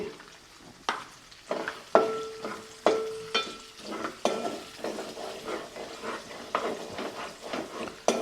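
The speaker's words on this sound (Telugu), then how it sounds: "మంచిగా వేగిపోయింది ఇప్పుడు ఇందులో గుప్పడి వెల్లుల్లిపాయలు వేసుకోవాలండి" Garlic cloves dropped into hot oil for gongura garlic chicken, with a steady close sizzle broken by repeated clinks and scrapes of a stirring spoon against the pan, no voices present.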